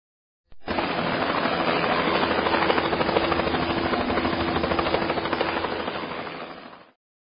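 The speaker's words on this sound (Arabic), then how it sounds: "مروحية" A helicopter sounds close and loud with its rotor chopping in a steady rapid pulse over a dense engine roar, holding constant for several seconds before fading out.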